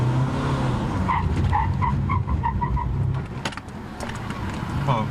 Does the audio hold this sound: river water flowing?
no